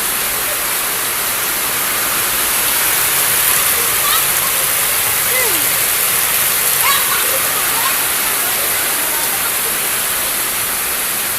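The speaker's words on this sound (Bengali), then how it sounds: "কি পরিমাণে বৃষ্টি হইতেছে" Heavy rain pours down in a dense, steady hiss, loud and continuous for the whole stretch, with a few faint background sounds, water about two inches deep on an empty road.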